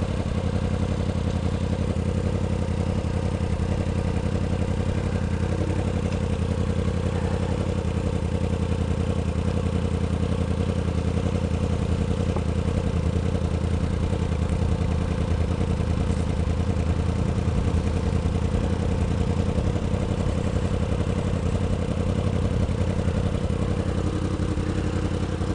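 A 2016 Yamaha R1 motorcycle idles beside a lake, a steady close engine hum with a low throb and light mechanical clatter that holds unchanged throughout.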